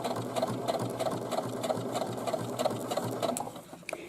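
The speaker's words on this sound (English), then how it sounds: "keep stitching until I come upon the next strap" A sewing machine topstitches straps onto a boomerang bag, its needle running in a steady, rapid rhythm close up before it slows and stops near the end.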